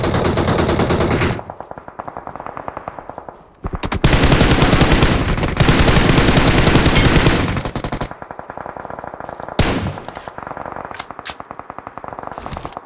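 Automatic gunfire from the PUBG battle royale game, with loud sustained rapid bursts interrupted by short gaps and a few sharp single shots near the end, dominating the mix with no talk.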